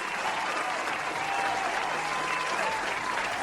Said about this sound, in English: Right for applause.